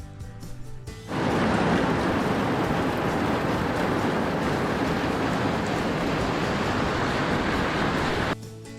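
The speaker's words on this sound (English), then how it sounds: "to be protected from the rain" Rain falls steadily in Peja, Kosovo, seen from a sheltered spot: a loud, dense, even hiss that starts suddenly, holds for about seven seconds, then drops away, with no voices.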